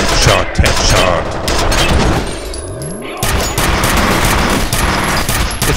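Heavy barrage of gunfire in the shooter F.E.A.R., loud continuous bursts and booming impacts close up, briefly thinning before the firing resumes, with someone talking over it.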